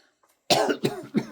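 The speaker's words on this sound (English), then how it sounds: "Excuse my cough." A person coughs close to the microphone, three harsh bursts in quick succession over about a second, following a brief hush.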